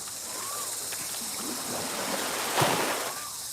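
Ocean waves wash up on Sairee beach on Koh Tao in a steady, airy surf hiss with wind. One wave breaks a little louder near the end, and nobody speaks.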